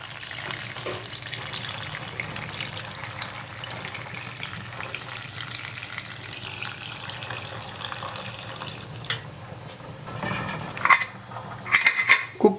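Water being poured into a pressure cooker with spices, ginger-garlic paste and salt for rice and dal, a steady splashing gush that continues throughout, with clinking and stirring noises near the end and no voices.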